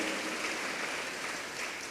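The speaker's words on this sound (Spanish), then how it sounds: "Démosle fuerte las palmas al Todopoderoso" A church congregation applauds during a sermon, a steady dense wash of many hands clapping together, soft and distant throughout, with no clear talk over it.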